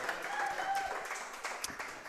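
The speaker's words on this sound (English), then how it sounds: "Let's give a round for Coach." Audience applause for a high school football coach on a local coaches show, a short burst of scattered clapping from a small crowd, moderately loud and fading over two seconds.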